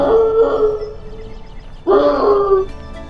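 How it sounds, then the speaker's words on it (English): A beagle bays in two drawn-out, wavering howls, the first running about two seconds and the second starting after a short pause, both loud and close with no other sound around them. "They bark like most dogs, but they also have a kind of yodel called a bay."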